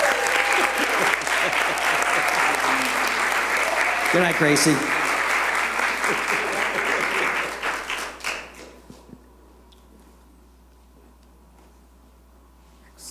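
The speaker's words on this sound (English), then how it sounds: "Applause." Sustained congregation applause at a Sunday service celebrating Hanukkah and the winter solstice, a full, steady clapping that a voice briefly speaks over before it tapers off sharply into near silence.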